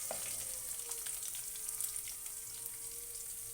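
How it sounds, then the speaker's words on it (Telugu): Lentils frying in a pan for red wheat rava upma give a soft, steady sizzle throughout, faint and close, with light crackles and no voices. "పప్పులు కొంచెం వేగాలి."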